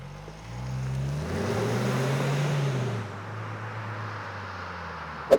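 A 2023 Kia Sportage S is driven normally, with a low engine hum and road noise that rise and then ease off, steady and moderately loud from inside the cabin.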